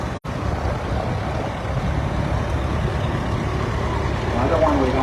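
A John Deere R tractor with a 417 cubic inch diesel engine, built 1949 to 1954, drives in a power show parade, its engine a loud steady low rumble under someone talking.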